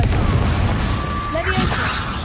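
A Confringo spell explodes in Hogwarts Legacy, a short, loud, booming blast with crashing debris amid dense game noise.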